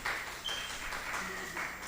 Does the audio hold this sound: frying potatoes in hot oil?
no